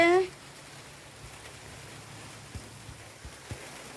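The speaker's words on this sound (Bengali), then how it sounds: "ওই যে বৃষ্টি পড়ছে" Steady, soft rain falls outdoors, a gentle even hiss with a few faint drips against a surface, after a brief voice at the very start.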